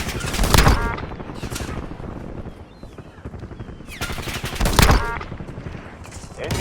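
Sustained gunfire in Warzone Resurgence: dense, loud automatic bursts with two heavy peaks of rapid shots over continuous rattling fire.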